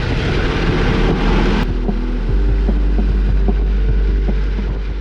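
A Ducati Multistrada V4 ridden on a track during an Alpine adventure event, heard as a steady low engine drone with wind rush, loud and continuous, the noise easing slightly partway through.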